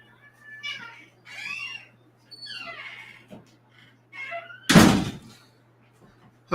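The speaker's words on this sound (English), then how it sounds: "The cat wants the door open, but does not want to leave the studio." A cat meows several times inside a studio, the cries rising and falling in short bursts, followed by one loud, sharp thump of a door; a low steady hum runs underneath.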